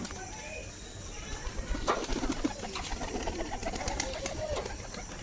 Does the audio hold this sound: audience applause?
no